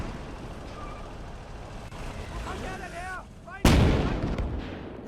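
Artillery gun firing in the Gates of Hell WWII strategy game, one loud booming blast partway through over a steady bed of battlefield rumble, with a voice talking beneath it.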